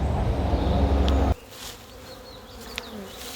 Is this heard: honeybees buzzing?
yes